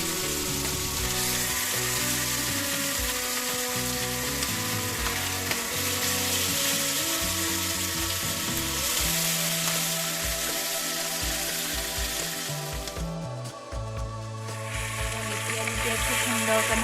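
Fish heads and pieces of fish fry in hot oil in a pan, a loud continuous sizzle and crackle running through the whole stretch with no voices over it.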